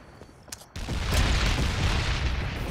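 A grenade detonates in the Killing Floor game, a loud, sudden boom after a few faint clicks, leaving a sustained rumbling roar that fills the rest of the moment.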